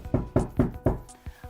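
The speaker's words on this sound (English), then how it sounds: "suddenly there was a knock at the door." A door is knocked on: four sharp, evenly spaced raps, followed by a softer fifth tap, heard close and clear with no talk.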